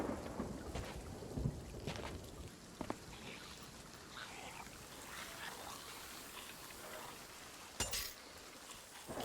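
Night thunderstorm on a video game island, with rumbling thunder and rain, sharp lightning-like cracks near the start and again around eight seconds, then a lower steady stormy wash.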